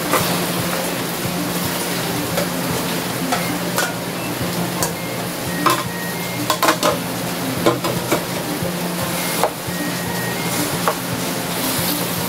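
Chopped banana heart (puso ng saging) goes into a hot pan for adobo, giving a steady close sizzle of frying with scattered scraping and clinking from a utensil stirring against the pan, and no talking.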